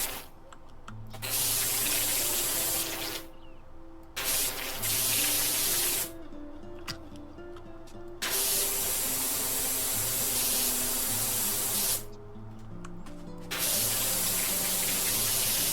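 Pressure washer spraying water in the PowerWash Simulator video game, a loud steady hiss that cuts off and restarts in several bursts with short gaps, alone without talk.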